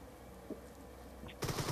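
Gunfire in PUBG on the Miramar desert map: a sudden burst of rapid automatic shots near the end, loud and close, following a quieter stretch of low game ambience.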